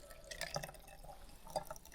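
Hot water trickles into a hot water bottle already holding a little cold water, faint intermittent splashes and drips close by, quiet against a still winter backdrop.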